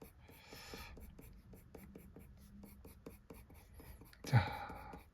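Colored pencil drawing feathers of a pink robin on paper: quick, repeated soft scratchy strokes in a steady rhythm, close and quiet, with a sharper scrape near the end.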